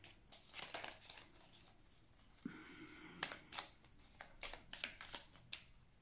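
Tarot cards being cut and shuffled close up, a quick series of crisp riffling flicks and taps, including a short steady riffle in the middle, quiet and with no talking.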